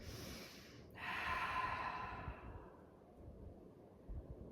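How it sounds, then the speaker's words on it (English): Deep, slow breathing during a morning yoga session: one long audible breath swells in after about a second and fades over the next two seconds, close and soft, with no talking. "Deep breath in. Arms overhead. Deep breath out."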